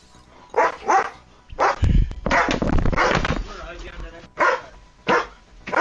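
A dog barks in short bursts, roughly six yaps spread across a few seconds, fairly close and clear, with a stretch of louder mixed noise in the middle.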